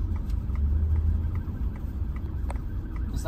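Low, steady car engine rumble from inside a vehicle as it turns right on a road in Brazil, continuous and fairly loud with a faint tick near the end.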